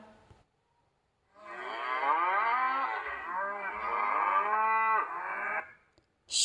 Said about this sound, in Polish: Ryczy krowa.